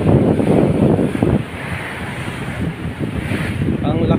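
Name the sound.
rough sea waves and wind on a rainy day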